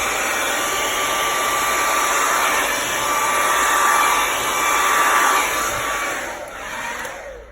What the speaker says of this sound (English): we're going to get our hairdryer. So you won't be able to hear me, but essentially I'm going to blow it that way onto the canvas